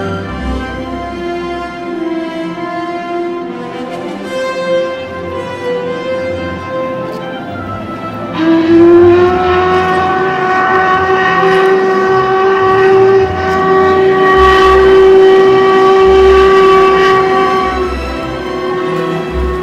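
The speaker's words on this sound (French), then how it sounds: "Un sifflet perça l'air frais des Highlands, puis un grondement profond et enivrant de la locomotive se fit entendre" A steam locomotive whistle sounds long and loud in the Scottish Highlands, swelling partway through, over a deep continuous rumble of the train passing close by.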